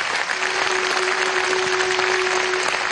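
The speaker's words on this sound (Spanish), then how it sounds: "un aplauso para nuestro vicepresidente ejecutivo" A crowd at a Venezuelan PSUV political rally applauds steadily for the full stretch, a dense continuous wash of clapping with no break.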